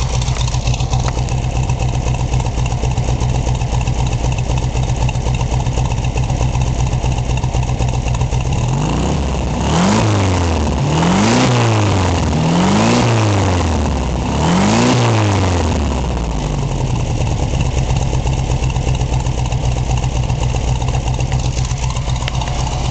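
Close up, a 1957 Porsche 356 Speedster replica with dual exhaust idles, then gives four quick throttle blips that rise and fall in pitch before settling back to a steady idle, with no one talking.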